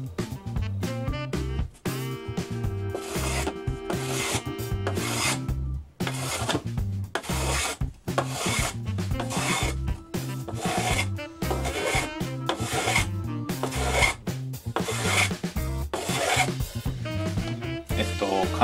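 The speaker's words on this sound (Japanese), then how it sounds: "これから毛書き線のところまでは、カンナを使って、 線ちょうどのところまで、削っていきたいと思います。" A Japanese hand plane (kanna) trims the edge of a wooden acoustic guitar side down to a marked line, making a series of close, rhythmic scraping shaves of even loudness with no talking.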